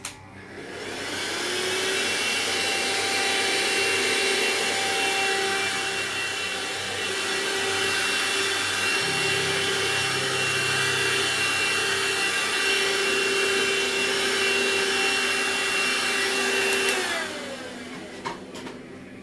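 A vacuum cleaner runs continuously at a steady, loud whine for about fifteen seconds, with a slight shift in pitch partway through, before switching off and winding down.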